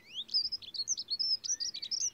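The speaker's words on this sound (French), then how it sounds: "le bruit des oiseaux." Small birds in a forest chirp and tweet in rapid, high, overlapping calls, clear and fairly close against a quiet background.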